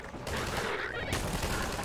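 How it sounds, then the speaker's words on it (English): Sustained, dense gunfire from enemies in the game Half-Life 2 VR, a continuous loud rattle of shots that fills the scene. "I do not appreciate this gunfire."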